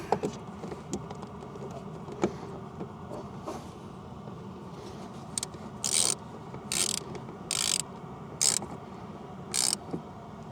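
A ratcheting tool tightens a screw onto a ground wire in the frunk of a Tesla Model 3, giving five short, sharp bursts of ratchet clicks in steady succession over a low background rumble.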